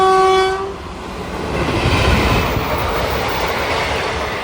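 A MEMU train near Renigunta sounds a loud horn blast at the start, then rumbles past with steady wheel and rail noise for the rest. There is no talk.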